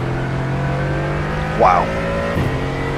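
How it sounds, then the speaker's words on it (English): An Audi race car in the iRacing video game sweeps past with a rising and falling engine whine, under a steady drone of other engines, while a voice briefly exclaims. "That Audi that's just past you"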